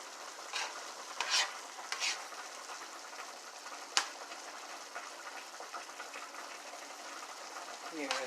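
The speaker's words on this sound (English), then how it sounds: "Trying to let my squash cook down." Squash cooking down in a pan on the stove, giving a steady low crackling sizzle throughout with a few soft stirring scrapes and one sharp click partway through.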